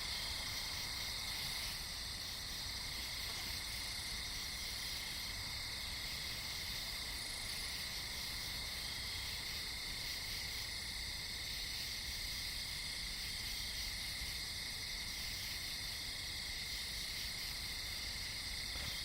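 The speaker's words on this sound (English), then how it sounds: "all the different insect sounds you hear right now." Dense chorus of crickets and other insects chirping steadily at night beside a pool, a continuous high shimmering drone with several layered trilling bands, fairly close and unbroken throughout.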